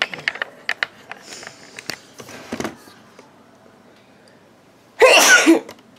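A woman sneezes loudly once near the microphone after some brief talking and rustling, the burst short and sharp against a quiet background.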